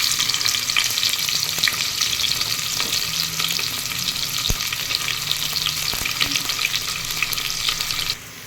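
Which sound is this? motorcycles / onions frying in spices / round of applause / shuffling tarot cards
onions frying in spices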